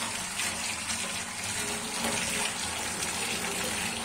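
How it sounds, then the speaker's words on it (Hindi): Fresh market mint leaves are rinsed under a running tap, a steady continuous rush of water close by with no voices over it. "इसके लिए हमने पुदीना ले ली है, ये पुदीना जो है मार्केट का सिस्टर ने इसको धो के साफ कर दिया है ना, साफ करके छांट के रखा है, अब हम धो रही है।"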